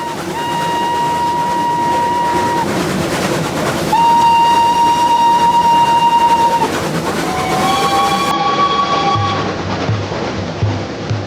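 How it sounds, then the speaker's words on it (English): A train carrying delegates from Delhi to Lahore rumbles along steadily and loud, its horn sounding in two long sustained blasts and then a shorter, wavering third blast. "Jinnah took the train from Delhi."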